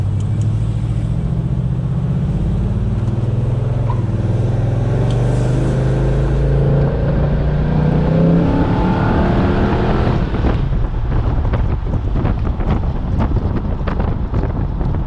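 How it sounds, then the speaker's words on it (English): A 1972 Chevelle convertible engine pulls at half throttle, loud and close, its deep exhaust rumble rising in pitch then dropping off, with heavy wind buffeting throughout. "those are like half throttle pulls, they're not full throttle or nothing"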